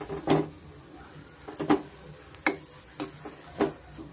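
Red chutney ingredients roast in a dry pan, heard as a few distinct scraping stirs and clinks at irregular intervals over a faint background, close and moderately loud.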